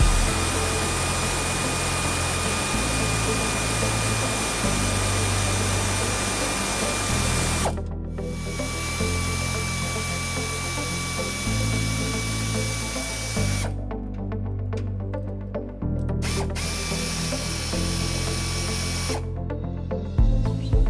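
A power tool whirs loudly while loosening a top bolt during trailer hitch installation on a 2011 Toyota Tacoma, running in steady bursts with brief revving changes and short stops, close and alone.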